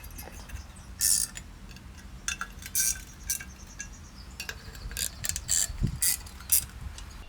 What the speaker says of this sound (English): we'll bolt this guy up and get on to the rest of the block prep